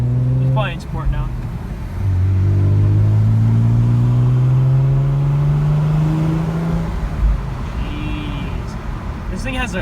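A 2018 Camaro V6 1LE engine pulls hard under acceleration, its low drone climbing steadily through the revs for several seconds before easing off, loud and close from inside the car.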